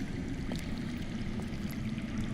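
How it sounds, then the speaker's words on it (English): Steady underground water flowing in a cave setting in the Game of Thrones Telltale video game, a continuous low rushing wash with faint trickles, constant and moderately distant, with no voices. "That's water. I hear water. From underground."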